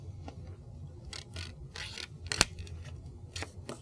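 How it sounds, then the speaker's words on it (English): Paper is folded along a dotted line, giving a few soft rustles and one sharp crease-like snap, quiet and close, with no talking. "Go ahead and fold the paper along that dotted line."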